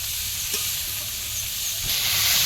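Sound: mixed vegetables frying in oil with panch phoron

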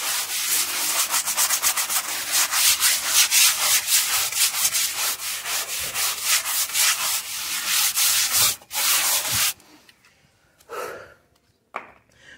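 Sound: scrubbing the front floor of a house with a brush

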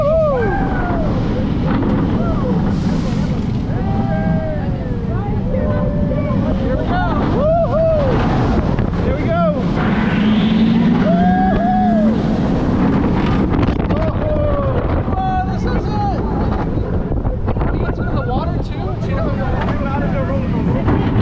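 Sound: riding Cheetah Hunt roller coaster at Busch Gardens Tampa

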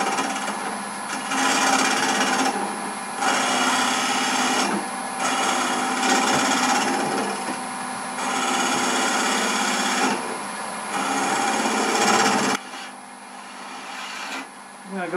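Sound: woodturning lathe cutting away nub on footed box bottom

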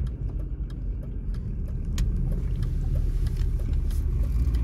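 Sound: BMW car driving

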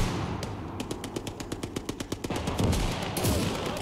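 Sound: gunfire in Call to Arms - Gates of Hell video game

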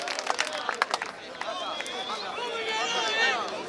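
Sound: crowd clapping at a freestyle rap battle

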